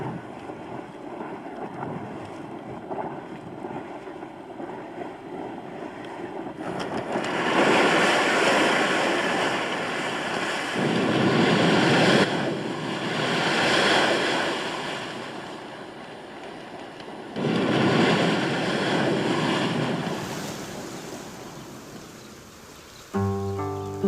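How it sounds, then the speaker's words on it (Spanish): Strokkur geyser in Iceland erupts, its rising bubble bursting and blasting water over 20 metres high: repeated loud, roaring surges of rushing water and steam rising and falling over a constant windy hiss, with no talk. "Strókur es el mayor de los geyser. Forma una burbuja que asciende por un conducto y es expulsada a más de 20 metros de altura."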